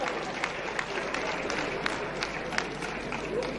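Crowd at an ANC mayoral candidates announcement giving a round of applause, steady scattered clapping with some sharper claps standing out, fairly distant.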